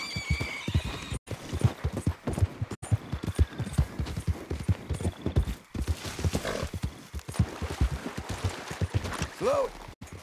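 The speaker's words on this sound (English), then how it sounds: "You're quite the horse." A horse in Red Dead Redemption 2 clip-clops along in a steady, close hoofbeat rhythm, and a loud whinny rings out near the end.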